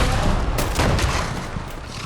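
Rapid bursts from a vampire's auto grenade launcher in Fallout 76, a dense, continuous volley of loud booming explosions and gunfire with no pause across the whole stretch.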